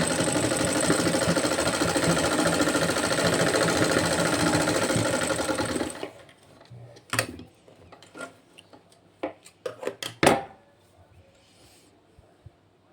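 A sewing machine stitches a sleeve cuff in a loud, rapid, steady mechanical run for several seconds, then stops, leaving scattered clicks and handling noises of fabric and parts.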